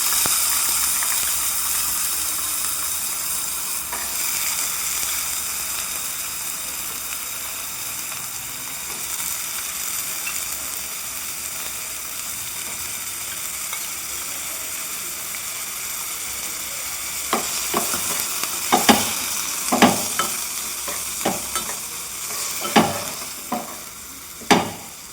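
Sprouted legumes fry with onions in a pan, making a steady sizzle that runs throughout, with a series of sharp scraping stirs near the end.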